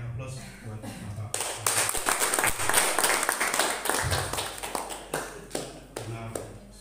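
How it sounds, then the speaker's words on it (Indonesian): An audience applauds a speaker named Mr. Suharson after his talk on branding and fundraising strategy, with steady close clapping that swells, then thins into scattered claps, while people talk over it. "Kita berikan aplaus buat Bapak."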